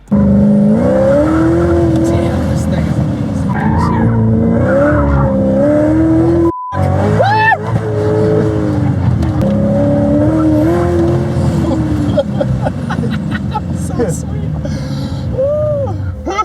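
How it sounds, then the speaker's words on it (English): A powerful Cadillac CTS-V driven hard around an autocross course, its engine revving and shifting loudly while the tires squeal through the corners, with excited voices over the run. "And then I got to drive Phil's super powerful CTS-V"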